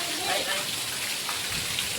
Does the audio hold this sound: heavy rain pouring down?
yes